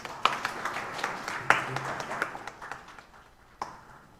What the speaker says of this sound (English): please give a bit another applause